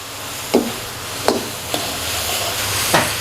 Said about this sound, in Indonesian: masukin saus mentega pelan-pelan, aduk-aduk sampai si saus menteganya habis